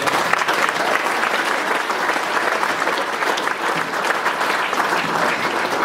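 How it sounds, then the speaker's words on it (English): A crowd at a book launch breaks into loud, sustained applause, a thick, even patter of many hands clapping that holds steady for several seconds without speech over it. "A big round of applause for."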